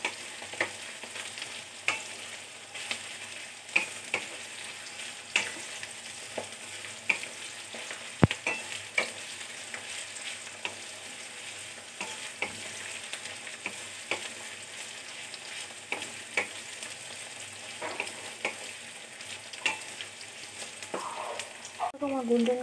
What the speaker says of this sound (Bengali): এটা একটু গোল্ডেন কালার করে ভেজে নেবো।